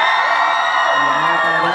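A crowd of university students at a student council election debate shouts and cheers loudly and continuously, a dense roar of whooping voices filling the space.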